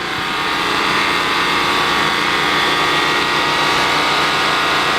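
A truck engine idles steadily in the background outdoors at a Thanksgiving event offering free haircuts to the homeless, a continuous loud mechanical drone filling the street scene with no speech over it.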